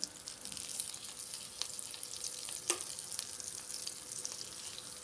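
Butter melts, sizzling and crackling softly in a heavy-bottomed pan, a steady frying hiss with occasional sharper pops.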